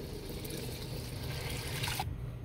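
A can's worth of water poured into a pot of sautéed sardines, a soft continuous trickle and splash that cuts off abruptly near the end.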